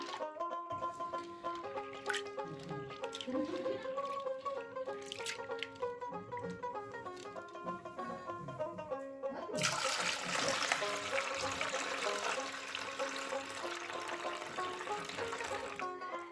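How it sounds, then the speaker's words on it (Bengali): Yellow split peas rinsed in water, a running splash and swirl that grows louder partway through, heard under continuous background music. "ডালটা কিন্তু আমি সুন্দরভাবে এখানে ধুয়ে নেবো"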